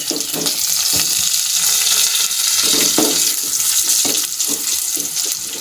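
Whole cardamom pods and cinnamon sticks frying in hot oil, a steady loud sizzle and crackle running throughout with a few stirring scrapes, no voices.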